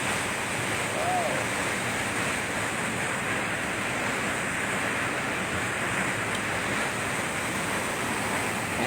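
Strong river current in a cold spot in Mindoro Oriental, a dense, steady roar of rushing water with some wind, unbroken from start to finish.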